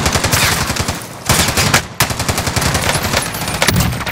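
Rapid automatic gunfire from the Call of Duty Modern Warfare video game, loud and close, in continuous bursts with a short break, no talk over it.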